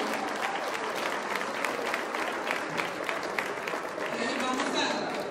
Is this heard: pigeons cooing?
no